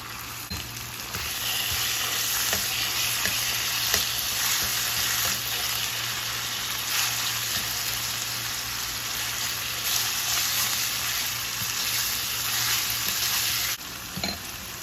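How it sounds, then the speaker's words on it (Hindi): Chicken pieces frying in a pan with softened onions, a loud steady sizzle filling the whole stretch, with brief stirring scrapes and no talking. "इस पॉइंट पर मैं इसमें चिकन ऐड करूँगी।"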